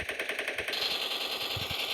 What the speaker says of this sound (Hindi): यहाँ कहाँ पे गोली चल रही हैं।